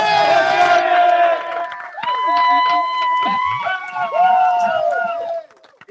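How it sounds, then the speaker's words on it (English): A crowd cheers and whoops at an ocean-rowing race finish for Nick Hollis, loud overlapping voices and shouts in several waves, cutting off near the end. "A big applause to Nick Hollis."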